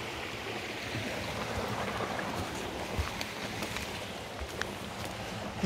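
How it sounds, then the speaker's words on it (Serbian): A babbling mountain stream in the Vršac mountains gives a continuous, faint rush of flowing water, alone with no talking. "Potok."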